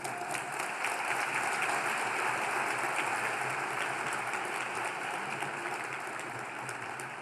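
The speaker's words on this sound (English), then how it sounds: "Let's give her a big round of applause" Sustained audience applause at an evening health heroes awards ceremony, a steady dense wash of many hands clapping at even loudness throughout, with no voices on top.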